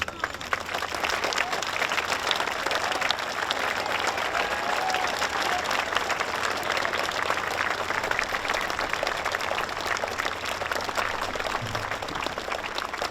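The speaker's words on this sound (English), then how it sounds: "please stand and join me in a rousing applause thanking all military service personnel" Sustained applause from a large crowd standing at a Veterans Day ceremony honoring military personnel, dense and steady clapping that continues at even loudness from start to finish.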